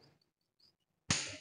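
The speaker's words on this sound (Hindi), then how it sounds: "पटाखा बोला ना, यानी कि ये कैपेसिटर अपना चार्ज हो जाता है" A capacitor bursts during a test with a single sudden, sharp firecracker-like pop that trails off in a short, hissing decay, preceded by a few faint, scattered small sounds in near silence.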